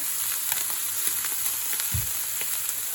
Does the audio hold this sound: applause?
no